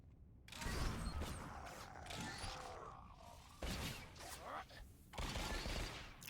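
Rapid blaster gunfire in Star Wars: The Old Republic, a Republic Trooper firing in combat, loud bursts of shots with mechanical clatter under game effects, continuing in bursts across the clip.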